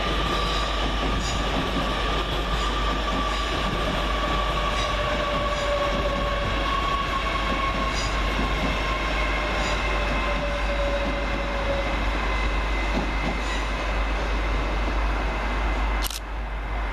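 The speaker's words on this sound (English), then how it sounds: "Arriving next for LNER is 801213, working the 1318 service London King's Cross to Edinburgh Waverley." An LNER Class 801 electric train, unit 801213, pulls into Peterborough station on the London King's Cross to Edinburgh Waverley service, with a loud, steady rumble, drawn-out wheel tones and a brief sharp squeal near the end.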